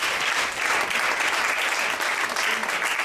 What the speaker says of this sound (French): Si on peut acclamer le Seigneur pour nous.